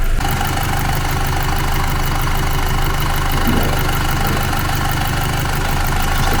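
A Volkswagen Group FSI car engine runs loudly up close, a steady throaty rumble with one brief rise in pitch partway through, and no voices.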